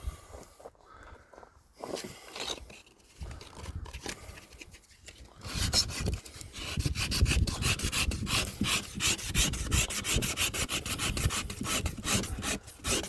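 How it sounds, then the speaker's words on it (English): Hand sanding paint off a boat rasps in quiet, uneven strokes at first, then turns into fast, steady scraping that continues loudly to the end. "So back to the sanding."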